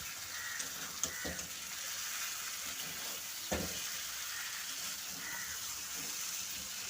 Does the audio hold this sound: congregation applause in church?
no